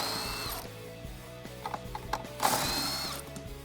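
A hand ratchet fitted with a 21mm socket works six-spline lug nuts loose on a Jeep Wrangler JL, giving a few short clicking bursts over a low mechanical rumble, with no voices.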